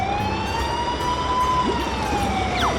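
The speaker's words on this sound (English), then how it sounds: "Police car." Wailing police car siren in a cartoon of construction vehicles rescuing a leaking oil tanker, a steady rising and falling tone held loud and close throughout, with no talk.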